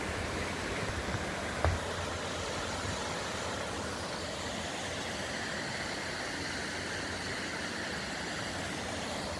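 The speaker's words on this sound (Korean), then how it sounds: "물소리는 시원합니다." Steady broadband rushing of a mountain stream at Seoraksan, even and continuous from start to finish, with one faint brief knock early on.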